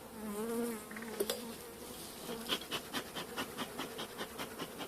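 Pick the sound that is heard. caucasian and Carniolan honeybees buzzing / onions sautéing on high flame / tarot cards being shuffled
caucasian and Carniolan honeybees buzzing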